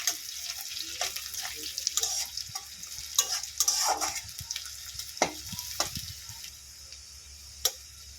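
Onions and green chillies fry in mustard oil in a pan, a soft continuous sizzle broken by scattered stirring scrapes and clinks, fairly close and moderately quiet.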